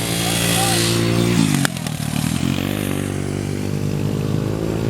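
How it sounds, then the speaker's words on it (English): A child rides a small motorcycle nearby, its engine buzzing loudly and steadily, then its pitch shifting as the throttle changes, with voices talking over the engine noise. "The bike that Russell's riding is my old bike."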